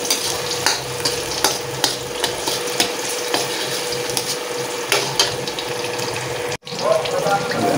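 Fish curry ingredients being stirred in a pan on the stove: steady close-up sizzling with repeated scraping clicks from a spoon, a brief drop in sound near the end, then the stirring resumes.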